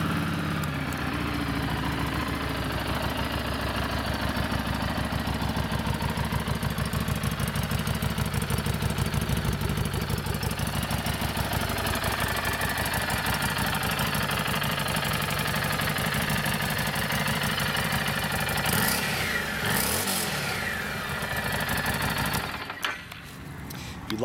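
A Harley-Davidson Street 500 motorcycle with 1,524 miles idles steadily nearby, a loud, even engine rumble lasting throughout, ending with a brief shift and a short drop near the end.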